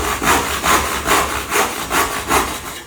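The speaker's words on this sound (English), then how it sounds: "we need to angle the tenon saw" Tenon saw cutting a wooden dovetail joint by hand, loud close rasping strokes in a steady back-and-forth rhythm, about six even pulses with no voices.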